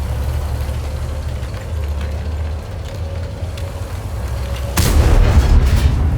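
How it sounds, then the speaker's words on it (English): Tank idling with a low engine rumble in World of Tanks, then one loud, deep cannon shot near the end that booms and lingers over the engine; no talking. "I like firing guns"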